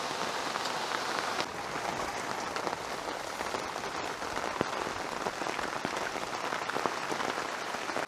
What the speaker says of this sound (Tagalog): Ang lakas na po ng ulan mga paps.